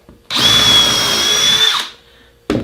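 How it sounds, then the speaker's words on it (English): A power drill pre-drills screw holes in freshly cut wood parts for a home-built deadlift jack. It makes one loud, close, high whine for about a second and a half, winds down, then starts again briefly at the end. "I'm going to take a drill, pre-drill some holes so it doesn't split when I put the screws in"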